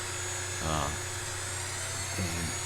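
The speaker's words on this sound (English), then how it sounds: "Now I'm going to sand the inside." A 2-inch sanding pad with coarse grit works the inside curve of a wooden bowl on a stopped lathe, making a steady whirring drone with two short, louder grinding bursts nearby.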